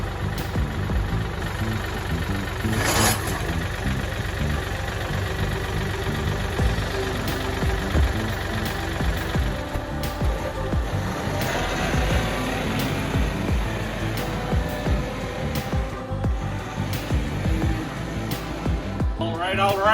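A repaired tractor with a newly fixed front axle rolls along, its engine running steadily and loud throughout while someone talks over it and a brief sharp clank cuts in early.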